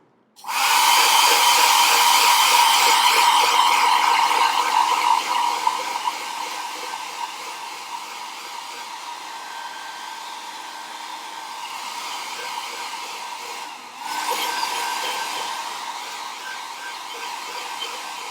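A hair dryer blows steadily on a decoupage napkin craft piece, loud and continuous, easing slightly quieter midway, with a brief dip near the end before resuming its whirring airflow.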